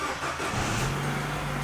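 Peugeot 308 engine starting and settling into a steady idle, a close, continuous mechanical rumble with a low hum that holds level throughout.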